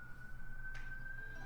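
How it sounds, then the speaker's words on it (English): A fire truck siren from a fire hall about two blocks away, a faint steady wail in the distance over low background rumble, with a brief burst of hiss partway through. "You hear that siren?"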